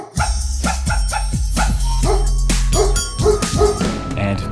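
Several dogs bark and yip in quick, overlapping bursts, loud and close, for a few seconds without pause.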